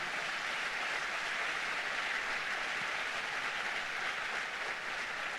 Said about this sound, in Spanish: Denle fuerte ese aplauso a Dios.